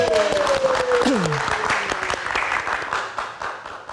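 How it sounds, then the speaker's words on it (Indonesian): Audience applause for a live music performance on a televised night show, dense clapping throughout with a brief tonal sweep near the start, staying loud before easing slightly toward the end. "Kita berikan tepuk tangan."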